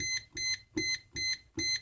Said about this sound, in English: if you hit the red button, it beeps, green light's on